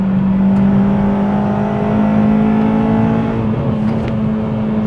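Honda Civic Type R EP3 on damp roads with new tyres and limited-slip differential, a steady loud engine drone with whirring road noise, cruising at even revs throughout.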